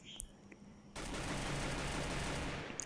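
Rapid automatic gunfire from a first-person shooter video game, a sustained loud burst of shots after a quieter opening second, spraying roughly half a magazine.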